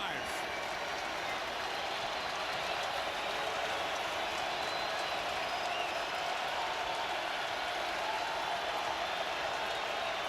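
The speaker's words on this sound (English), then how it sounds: "Crowd rises here in Indy." Indianapolis stadium crowd at an NFL game between the Seattle Seahawks and Indianapolis Colts rising to its feet, a steady, dense roar of cheering and noise that holds throughout.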